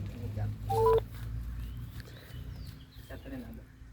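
A short burst of telephone keypad dialing tones sounds near 0.8 seconds over a busy background of voices and low rumble, while someone prepares to call a customer about a car for sale.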